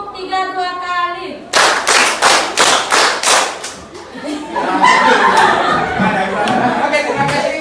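Schoolroom of students clapping together in a counted rhythm pattern, a run of about seven sharp, evenly spaced group claps followed by looser, scattered clapping and chatter.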